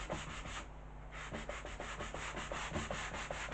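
A medium-grit sanding block rubbed back and forth over stripped wood during furniture restoration, making rhythmic, fairly quick rasping strokes close up, with a brief pause near the start.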